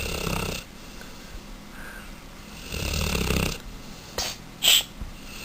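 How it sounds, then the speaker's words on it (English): A man snores loudly, heavy rasping inhalations in two long bursts separated by a quiet pause, close to the listener, followed by a short snort and a couple of sharp catches of breath. "You snore with your eyes open."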